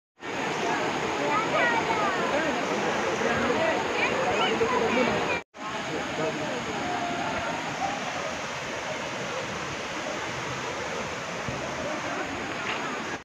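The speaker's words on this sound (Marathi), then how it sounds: "धबधबा" A waterfall gives a loud, continuous roar of rushing water, broken once by a short cut and then resuming at the same strength.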